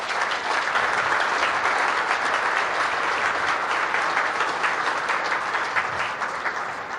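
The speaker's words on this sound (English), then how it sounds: "you can all give an applause, a round of applause to the last of its kind right here" Loud, dense applause from a crowd at a car assembly plant closing ceremony, sustained evenly for several seconds and easing slightly at the end.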